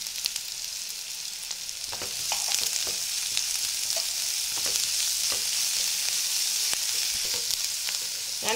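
Onions sauté in a pan for chilli idli masala, a steady bright sizzle with scattered scraping stirs and light clicks, growing slightly louder partway through.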